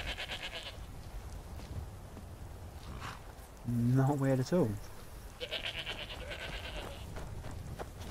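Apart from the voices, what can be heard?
goats bleating in the video game Skyrim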